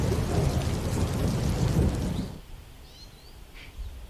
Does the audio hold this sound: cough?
no